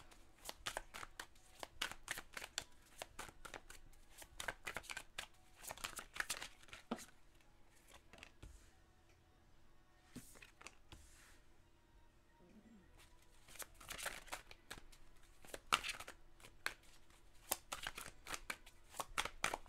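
Tarot cards are shuffled during a three-choice love reading: quick, papery riffling and flicking bursts come in irregular clusters throughout, fairly close and soft, with faint handling noises between them.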